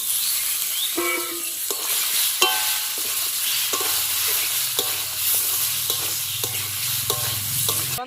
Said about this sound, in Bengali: এটা ভালো করে আমি মিশিয়ে নিচ্ছি আলুটা ঢেলে দিচ্ছি আমি এখন